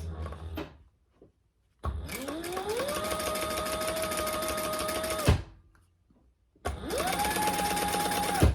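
A domestic sewing machine stitches vinyl for a beginner bag in two close, steady runs with a whirring motor that ramps up and cuts off, separated by a short pause.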